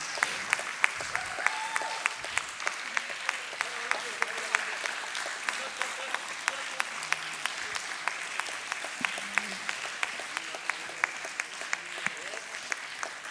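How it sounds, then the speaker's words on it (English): A corporate stock exchange listing ceremony audience gives a steady round of applause after a countdown, moderately loud and continuous, with sharp claps ticking through and faint voices underneath. "A nice rousing round of applause, ladies and gentlemen."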